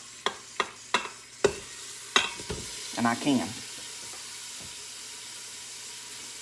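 Three short ribs go into a hot pot with olive oil, a series of sharp knocks and clatter followed by a sizzling sear and a short utensil scrape, with a brief spoken phrase.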